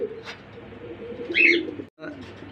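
Pigeons coo at a pigeon farm in soft, throaty calls, close by, over a quiet background with a brief gap near the end.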